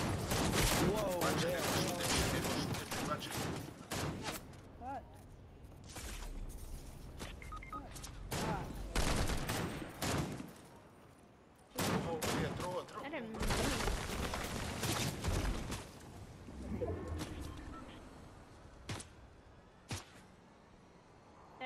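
Video game gunfire during a match played with friends, with dense bursts of rapid shots and booms coming in waves over about twenty seconds, while players talk over the action.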